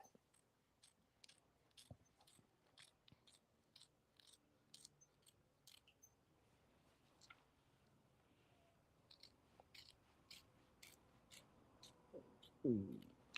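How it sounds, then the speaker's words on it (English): Quiet, sharp snips from applique scissors come in short bursts as a stiff hat patch is trimmed, ending with a louder rustle and crunch up close. "Now I'm going to trim that with my applique scissors here."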